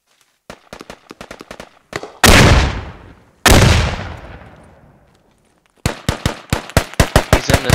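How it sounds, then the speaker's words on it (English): Gunfire in the military shooter game Squad from an enemy firing down from atop a wall: quick rattling bursts of rifle shots, then two loud, booming blasts with long decaying tails, then more rapid close shots, with no talk. "He's standing above the wall, shooting at us."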